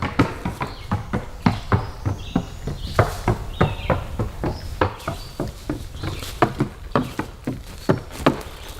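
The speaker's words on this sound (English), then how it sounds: "did you hear that clip clop of those horses?" Shod horses' hooves clip-clop on a trail, giving a steady train of sharp, fairly close hoof strikes with a faint background hum.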